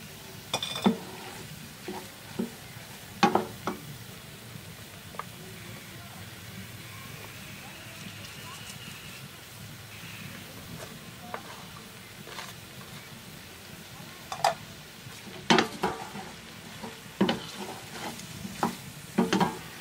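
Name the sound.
tomato and onion frying with green beans and egg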